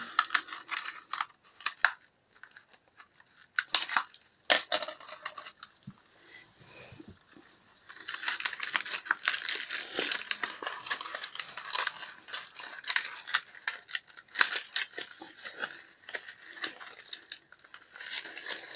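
A large parcel being opened, with close, quiet packaging crinkling, tearing and rustling in irregular bursts, busier in the second half.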